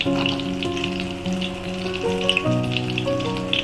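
Mushroom nuggets deep-fry in hot oil with a dense, crackling sizzle that bubbles steadily throughout. Faint tonal background sounds run underneath, and there is no speech.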